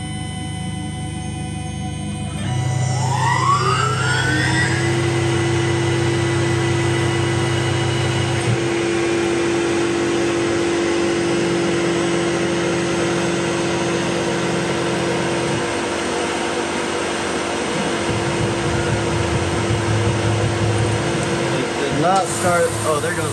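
A CNC machine starts up and runs a knife blade toolpath test, giving a loud, steady mechanical whine and hum with a rising spindle tone that holds throughout, along with shifting lower motor drones.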